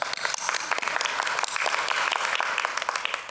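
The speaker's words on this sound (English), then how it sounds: "I think that deserves a round of applause." At a white coat ceremony, an audience applauds continuously, a full and lively patter of many hands with scattered sharper claps throughout, holding steady at a moderately loud level.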